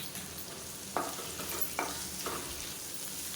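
Onions with mint leaves and salt sauté in a pan under a steady sizzle, broken by two or three short scraping stirs, close and quiet with no talk.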